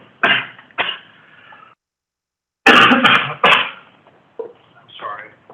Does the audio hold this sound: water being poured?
no